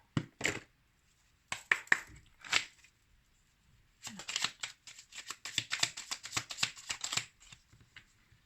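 A small deck of tree-of-life oracle cards is shuffled up close: a few separate riffling bursts at first, then a longer, dense run of crisp flicking and slapping card sounds, with no talking over them.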